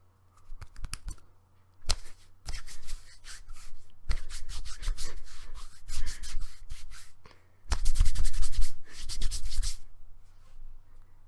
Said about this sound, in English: And that was the sound of a sock puppet murder.